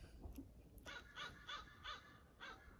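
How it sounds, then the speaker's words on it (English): Dogs barking in the distance across a lake in the early morning, a few faint yaps followed by a run of five evenly spaced barks, far off and quiet in an otherwise still setting. "I can hear some dogs waking up, barking."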